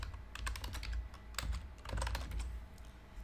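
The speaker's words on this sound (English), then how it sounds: "Type that in and press find." Rapid, uneven keystrokes on a computer keyboard, close and clear, in short bursts with brief pauses while a name is entered into a search box.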